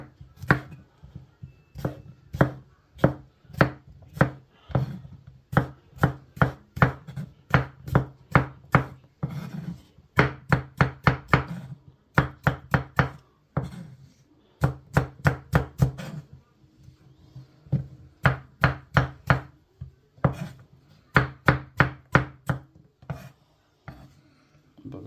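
A knife chops capsicum into medium pieces on a board with crisp, rapid taps in quick rhythmic bursts separated by short pauses, close and clear with no voices.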